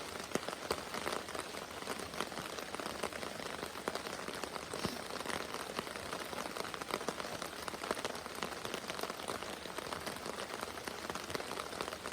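Rain falling steadily at an autumn campsite, a dense, even patter of drops striking surfaces nearby, continuous and moderately loud throughout with no pauses or voices.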